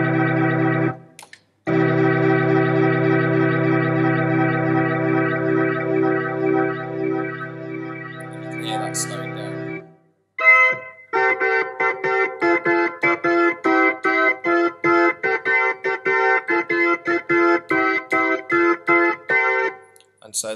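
A 1964 Wurlitzer organ played with the chorus effect through its rotary speakers: a sustained chord, a brief pause, then a run of repeated staccato chords, loud and close with no talking.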